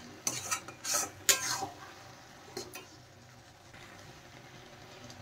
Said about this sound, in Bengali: ভালোভাবে নেড়ে চেড়ে হালুয়ার সাথে মিশিয়ে দেব